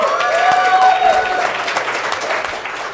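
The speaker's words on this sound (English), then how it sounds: "Ooh, roaring applause, right?" Loud, sustained applause from a crowd, with a few voices whooping and calling out over the clapping, fading slightly toward the end.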